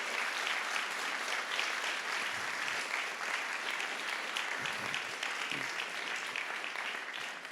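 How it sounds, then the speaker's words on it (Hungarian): An audience inside a small church applauds a choir, a sustained, fairly faint wash of many hands clapping without pause. "nagy tapsot a kórusnak előre is."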